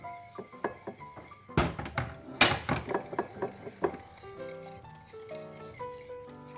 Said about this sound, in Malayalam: എഗ് ബീറ്റർ ഉപയോഗിച്ച് നമുക്ക് നല്ലതുപോലെ അടിച്ച് പതപ്പിക്കാം